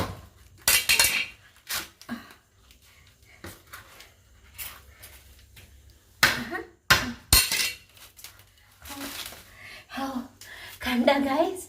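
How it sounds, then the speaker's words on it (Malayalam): A coconut is broken open by hand, giving sharp irregular knocks and cracks with short gaps between them, close and loud, while a person talks and exclaims between the strikes. "ഞാനൊരു തേങ്ങ പൊളിച്ചു"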